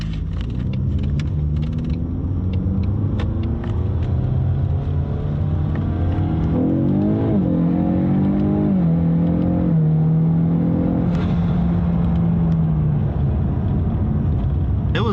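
A turbocharged car accelerates hard, its engine note climbing in pitch through successive gear shifts with brief drops between them, loud and close over a constant rushing roar.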